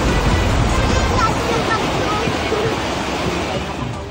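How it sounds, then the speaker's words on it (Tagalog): Floodwater carrying lahar rushes through roads in Guinobatan, Albay, a loud continuous roaring wash of turbulent water with wind-like noise, steady and near, fading slightly at the end. "Rumaragas ang baha na may kasama pang lahar ang naranasan sa ilang bahagi ng Ginobatan, Albay"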